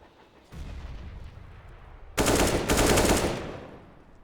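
AK rifle fire in a Counter-Strike match on the Train map, heard as a dense burst of automatic shots that starts partway through, loud and close, after a lower rumbling stretch of game noise.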